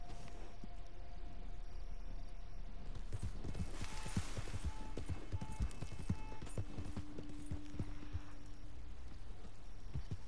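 A tiger stripe bay mustang gallops in a video game, its hooves making a fast, steady clip-clop that stays close and clear for about ten seconds. A soft ambient hum and faint tonal game sounds play underneath.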